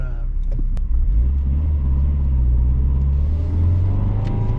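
A 1.4 multi-valve Nissan Micra engine drones steadily from inside the moving car, a continuous low rumble with road noise, while a voice talks over it.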